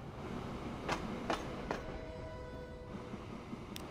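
A freight train arriving in a Transport Fever 2 fuel refinery game over a steady rumbling bed, with a few sharp clanks and a faint wheel squeal partway through.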